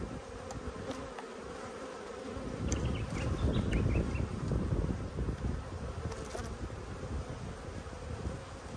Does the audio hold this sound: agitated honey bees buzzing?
yes